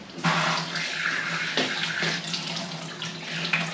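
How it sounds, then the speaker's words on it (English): Hot water from a tap fed by a 15-litre mini tank water heater under a kitchen sink pours steadily into the basin, a continuous close splashing rush with small shifts in flow and no talking. "Come and try the water."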